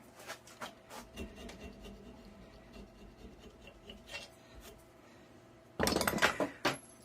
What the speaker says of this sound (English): So we can, again, scrape things out.